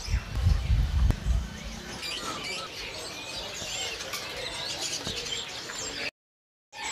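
Birds chirp and tweet in a busy chorus at a kiosk in Pramuka bird market, with some cooing mixed in and low rumbling noise early on, ending in a short silence.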